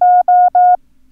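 Three identical steady beeps of a single pure tone sound Morse code for the number 1, each long like a dah and separated by short gaps, then silence.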